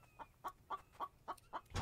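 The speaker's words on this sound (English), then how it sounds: "you do you, chicken" A chicken in the game The Infected clucks in a steady run of about six short, evenly spaced calls, faint and somewhat distant, with a louder noise at the very end.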